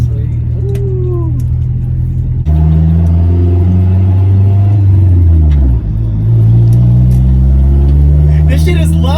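A Honda Civic fitted with a cheap eBay aftermarket exhaust idles loudly, then climbs into a deep, rumbling rev that rises and falls, close up and loud, with brief voices around it.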